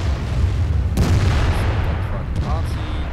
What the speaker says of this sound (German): Die Kanonen, die ganzen Schüsse